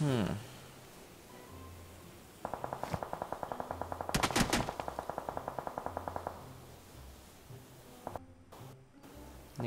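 Rapid automatic gunfire in PUBG Mobile: a long, steady burst of close, evenly spaced shots lasting about four seconds, with a couple of later isolated shots and faint background game ambience.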